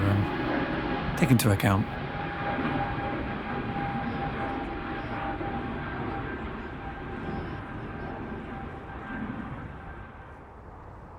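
A Vueling airliner at Manchester Airport gives off a steady jet engine drone with a faint tonal whine, fading slowly over several seconds, while a person talks over it at first.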